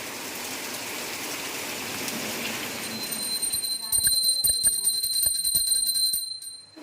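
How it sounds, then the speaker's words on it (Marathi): Continuous rain patters and hisses on surfaces, then grows into louder, closer dripping with a faint ringing tone near the end. "पाऊस थोडा कमी होते कारण कंटिन्यू लागतोच आहे बघा कसा"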